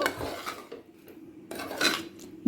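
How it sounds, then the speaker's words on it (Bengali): A spoon scrapes and clinks against a pot while sugar, ghee and garam masala are stirred together, two bursts of close scraping with a quieter pause between, no voices. "আবারও ভালো করে চিনি ঘি আর গরম মশলাটা মিশিয়ে নেব"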